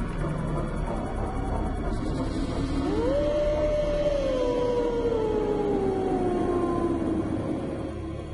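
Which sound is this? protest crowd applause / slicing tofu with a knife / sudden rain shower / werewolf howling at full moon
werewolf howling at full moon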